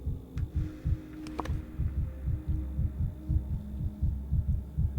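A rapid, steady heartbeat from a patient in the video game Pathologic 3, low thumping pulses repeating about three times a second over a constant low hum, with a few faint clicks and no talk.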